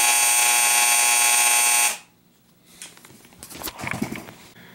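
Vintage Tudor electric football game vibrating loudly, a steady harsh buzzing drone for about two seconds that cuts off abruptly, followed by faint scattered clicks and rattles, close and without talk.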